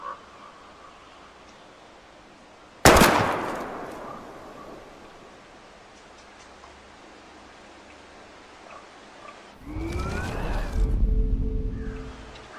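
A single loud gunshot cracks out in the video game Life is Strange, followed by a quiet hiss of ambience and then a rising rumble with other noise near the end.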